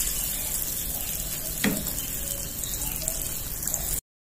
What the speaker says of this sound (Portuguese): E agora eu vou fritar a última.